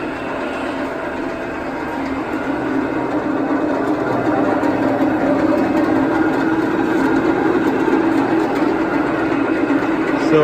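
A refurbished Urschel Model GKS slicer machine runs with a steady, dense mechanical whir and rattle that holds at an even level throughout, close by and unbroken.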